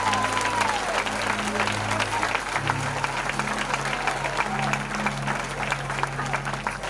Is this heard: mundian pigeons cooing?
no